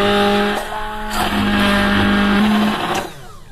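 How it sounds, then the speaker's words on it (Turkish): A blender purees softened peach and pear with milk pudding into baby food, its loud motor whining steadily with shifting pitch as the blades churn, then winding down at the end. "Şimdi blenderdan geçireceğiz."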